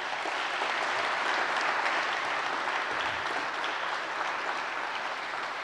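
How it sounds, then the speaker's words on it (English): A conference audience gives a long, even round of applause at the closing of an event, thick and steady clapping heard alone without speech. "So a huge round of applause for them as well."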